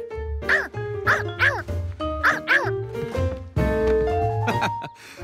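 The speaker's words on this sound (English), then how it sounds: "But it did bark." A very young cartoon otter pup lets out a quick run of high, bright yipping barks in close succession, then a longer sustained, rising cry near the end, loud and close.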